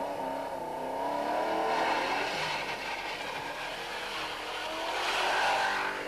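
A Mini Cooper historic rally car races fast along a country road at the 1991 West Cork Rally, its engine note rising and falling with a pass that swells twice, loud and fairly close, with no voices.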